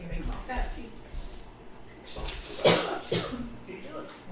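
A person coughs a few times during a sports card box break, short bursts among low background chatter and rustling.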